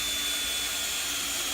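A power drill runs steadily while backing out soft brass hinge screws from a door, a continuous close whine with a high tonal hum and no pauses.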